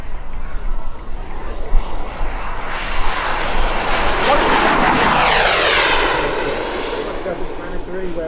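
A large fifth-scale RC jet weighing about 80 pounds, powered by two 200-220 size gas turbines, screams past at an RC jet event, a loud whining roar that builds and sweeps through, with a voice talking over it.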